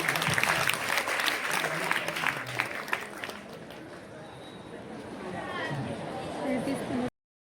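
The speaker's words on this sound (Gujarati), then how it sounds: "સૌ બાળકોને આપણે તાળીઓના ખૂબ ગડગડાટથી વધાવીશું." Applause for children at a school quiz competition: a dense clatter of clapping from a crowd, loud at first and then thinning and fading over several seconds before cutting off.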